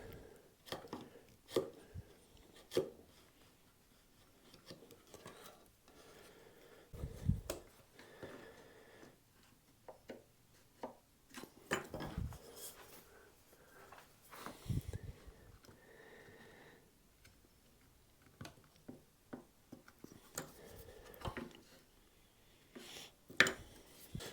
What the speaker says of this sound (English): very delicately take a sharp chisel and just work that material out